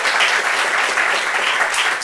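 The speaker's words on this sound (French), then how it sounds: "Est-ce qu'on peut applaudir ce papa?" A studio audience bursts into dense, loud applause for a father on a talk show, sustained and even across the whole stretch.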